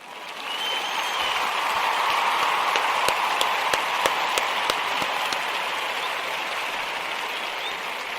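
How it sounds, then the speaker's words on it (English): A crowd applauds steadily at a celebration for the Ujima principle, dense clapping holding for several seconds with a few sharp, louder claps standing out near the middle. "We want to give all the Ujima babies a round of applause."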